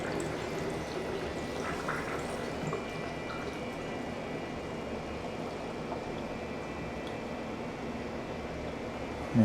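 A public toilet flush in Manila keeps running after being pulled, giving a faint, steady rush and trickle of water that continues evenly throughout, ending with a brief knock.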